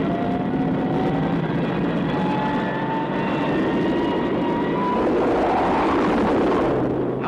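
A rocket sled carrying an ejection test dummy speeds down a test track at over 1,000 miles per hour, a loud, sustained roar with shifting whining tones that swells slightly near the end.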